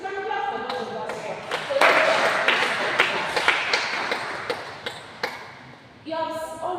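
A church congregation gives scattered claps, sharp individual hand strikes that come irregularly, mixed with brief voices and ending under a speaker's voice.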